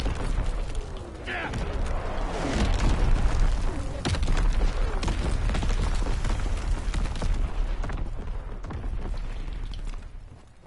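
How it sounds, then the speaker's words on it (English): Incoming artillery explosions in a shooter video game, a dense run of loud booms and bursts filling most of the span, with speech-like sounds mixed in under the blasts. "Incoming enemy artillery. Get to cover."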